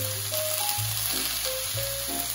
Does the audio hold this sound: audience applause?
no